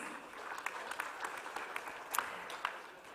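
Audience at the NAREDCO Finance Conclave 2023 in India applauds the launch of the Naredco Fund City, a soft, steady patter of clapping with a few sharper individual claps, fairly distant and subdued.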